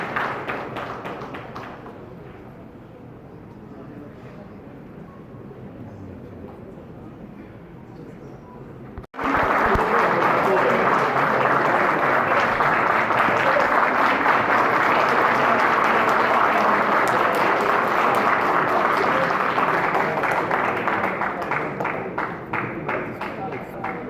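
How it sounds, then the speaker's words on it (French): Loud crowd applause at a Haitian political party ceremony for Parti Politique Solution, bursting in abruptly after a quieter stretch and continuing as thick, sustained clapping for roughly fifteen seconds before easing slightly. "Applaudissez pour nous"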